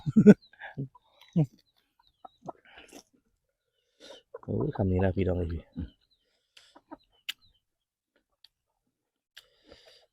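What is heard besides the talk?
chickens clucking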